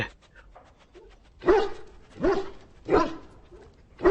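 Dog in the video game Dragon Age Origins giving three spaced, moderate barks with soft whimpers in between, fairly close.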